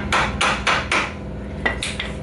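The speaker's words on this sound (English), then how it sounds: "So hammer, get a couple taps on it." Several sharp metallic hammer taps seating a wheel bearing on a 1998 Ford Ranger, four quick strikes then a pause and two more, close and loud with no talking.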